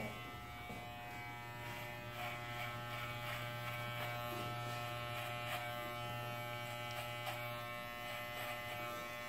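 An electric hair clipper with a 1.5 guard buzzes steadily at close range while cutting hair, the motor hum continuous with faint snips and rustling as it passes through.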